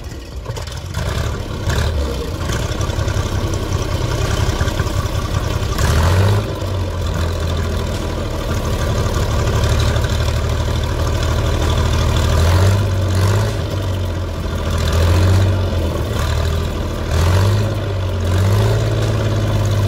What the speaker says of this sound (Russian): запись тигра, запуск королевского тигра